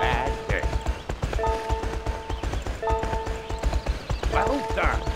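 A horse canters in the My Horse and Me video game, its rapid three-beat hoofbeats close and constant beneath game music tones, with a voice talking over it.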